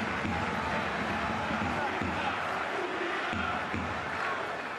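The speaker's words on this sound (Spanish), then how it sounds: "Sonido de tambores, palmas" Stadium crowd at a Cadiz CF versus Huesca football match, a dense, continuous roar with rhythmic drumming and clapping running underneath, heard from a distance with a commentator's voice over it.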